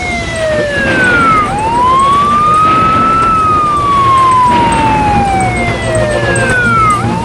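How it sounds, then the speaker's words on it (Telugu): A loud emergency siren wails continuously, its pitch sweeping up and down in long rising and falling cycles, close and dominant with no talking. "ఓహో, సైరన్ మోగుతోంది."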